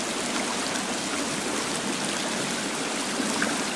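Steady rushing water in a waterfall cave in the video game The Forest, a constant broadband roar with no breaks, loud and close, with no voices.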